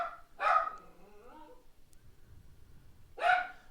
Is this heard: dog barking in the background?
yes